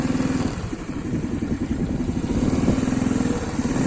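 An Arora Kasirga Lux Cub 50cc motorcycle engine runs at full throttle on the road, a close, buzzy, steady drone with a rapid rhythmic pulse and no speech.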